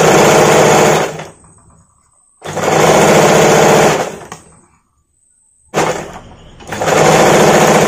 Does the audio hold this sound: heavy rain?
no